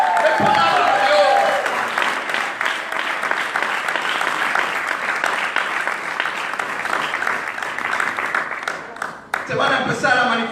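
A church congregation claps and applauds in a loud, dense, sustained wash of hands that continues with little break, with a voice speaking over the applause.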